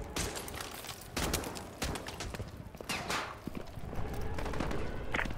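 Gunfire in a military campaign battle from Modern Warfare 2 Remastered, scattered bursts of shots cracking amid loud battlefield noise, with voices calling out over the din.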